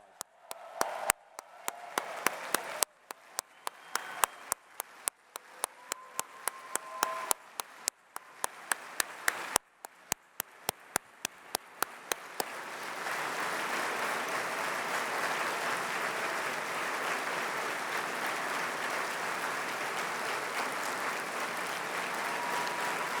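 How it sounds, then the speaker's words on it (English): Enthusiastic applause from a large crowd at a dinner gala, starting as scattered distinct claps and swelling into a steady, dense roar of clapping that continues to the end. "I'd like us all to give them a big round of applause."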